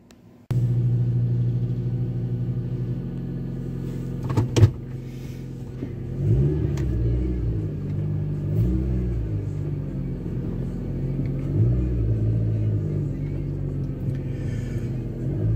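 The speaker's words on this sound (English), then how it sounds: "we're gonna go now and take the car for a spin" A 2009 Dodge Caliber pulls away and drives, its engine note rising and falling through gear changes with a steady rumble and road noise from inside the cabin, a couple of sharp knocks near the start.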